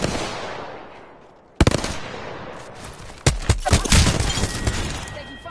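Automatic gunfire in the battle royale game Apex rips out in loud, rapid bursts after a sudden crack, with shattering impacts and dense overlapping shots near at hand, and a voice speaks over the fight.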